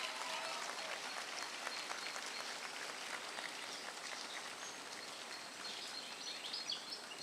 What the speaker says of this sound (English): Can we get one more round of applause for our APAC dancers?